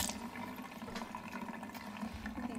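Running water splashes steadily over beets being washed, a continuous faint rushing and trickling close by with no talk.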